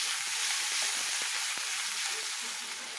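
Onion sizzles steadily in a hot pan of oil, a dense, even hiss with faint scattered pops and stirring clicks, close and continuous.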